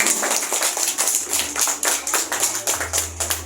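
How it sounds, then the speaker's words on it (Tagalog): Close, steady applause from an audience at a school moving-up ceremony, a dense run of overlapping hand claps that keeps going evenly for a few seconds. "Palakpakan naman!"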